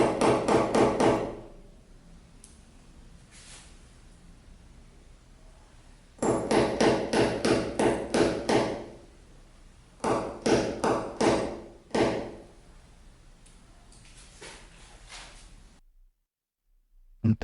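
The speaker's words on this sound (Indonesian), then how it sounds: "kita gunakan paku beton dan juga palu untuk memberikan awalan agar mempermudah proses pengeboran kita nanti" A hammer drives a concrete nail into a wall in three bursts of rapid, ringing close-up taps, with quiet gaps in between.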